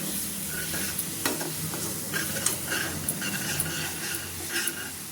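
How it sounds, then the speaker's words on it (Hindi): Spices fried with a little water in a pan for mixed vegetables, a close, continuous sizzle and hiss broken by scraping stir strokes and occasional sputters, with no talking. "इन सभी मसालों को इसमें डाल देंगे और थोड़ा सा पानी डाल करके इनको भून लेंगे"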